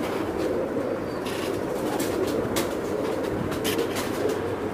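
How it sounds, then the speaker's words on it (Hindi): Kasuri breed pigeons coo softly over a steady background hum, with a few faint flutters and clicks scattered through. "ये आपको दिखा रहे थे माशाल्लाह कसूर के कबूतर"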